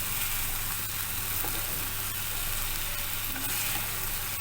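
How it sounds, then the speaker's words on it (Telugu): Paneer tikka pieces fry in a pan with a soft, even sizzle and faint crackle, steady throughout with no voices. "సో అందుకనే ఇలా ఫ్రై చేసేస్తున్నాను."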